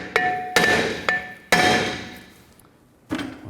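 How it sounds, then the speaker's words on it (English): A hammer taps a stuck rear brake rotor on a 2009-2017 Chevy Traverse to loosen it: five sharp, ringing metallic strikes, a quick irregular cluster of four followed by a pause and one last hit, close and loud. "take a hammer, just give it a tap in these areas right here"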